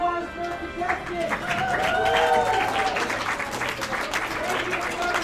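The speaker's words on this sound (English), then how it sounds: "round of applause for the contestants" Applause from the crowd at a Super Smash Bros 4 tournament at an anime convention in an arena, continuous clapping with cheering and chatter underneath, and a voice audible early on.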